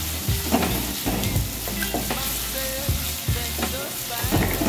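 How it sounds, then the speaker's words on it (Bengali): Chopped onions frying in mustard oil in a wok, a loud close sizzle with repeated spatula scrapes and clinks against the metal, continuous and with no talking. "ভালো করে পেঁয়াজ কুচিগুলোকে আমরা লাল লাল করে ভেজে নেব"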